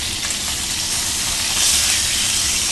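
Beef heart searing in a hot pan, a steady close broadband sizzle and hiss that holds evenly and swells slightly partway through, with no talking.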